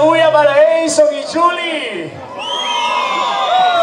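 Wedding guests cheer, whoop and shout for the newlyweds, a loud, lively crowd din. An announcer speaks over it, and the crowd noise swells again toward the end.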